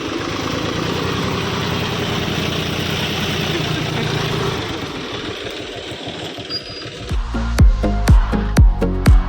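A loader and tractor engine idle steadily while manure is loaded, a low, continuous rumble that later breaks into several sharp, loud clunks and knocks near the end. No one speaks.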